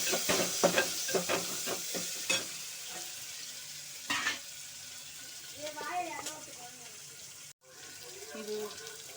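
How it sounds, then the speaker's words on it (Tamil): Onion, green chilli and curry leaves being sautéed in a pan for dal kuzhambu, with bursts of sizzling, spoon scrapes and stirring, followed by softer frying and a brief voice in the background. "கருவேப்பிலை போட்டு வதக்கிக்கலாம்."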